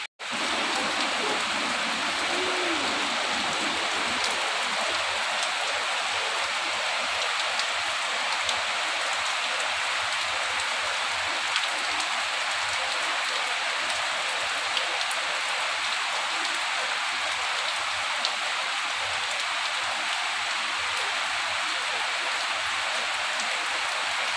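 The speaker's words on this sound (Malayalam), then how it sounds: "വലിയ മഴ പെയ്തത്" Heavy rain pours down steadily, a dense, even roar of drops hitting surfaces nearby, continuing without a break and with no voices.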